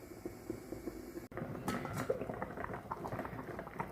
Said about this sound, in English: It's on a nice sort of simmer, sort of rolling boil setting.